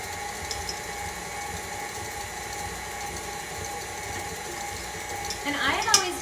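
KitchenAid stand mixer churning candy ingredients with cocoa powder and coconut oil, a steady mechanical whir running throughout at moderate level, with a brief clatter near the end.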